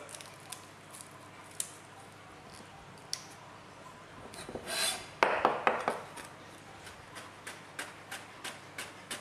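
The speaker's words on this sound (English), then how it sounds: "I'm just taking off the outer skin so I can get to the heart." Outer skin being peeled off a stalk of lemongrass, close dry rasping and rubbing with a brief louder tearing burst midway, then a run of light crisp ticks.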